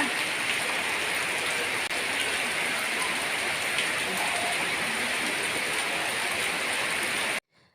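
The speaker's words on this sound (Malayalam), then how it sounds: "എന്താ മഴ" Rain falls in a steady, dense wash of hiss and patter close by, even and unbroken until it cuts off abruptly at the end.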